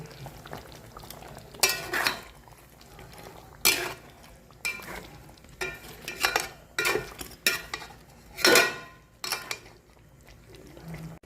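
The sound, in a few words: adding fried carrots and potatoes into a cooking pan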